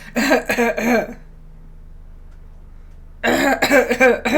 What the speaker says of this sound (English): there's always just like a cough, pause, cough.